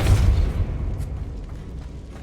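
Confringo and Depulso spells in the video game Hogwarts Legacy blasting apart a barricade, a single heavy booming explosion with a deep rumbling tail that fades over about two seconds.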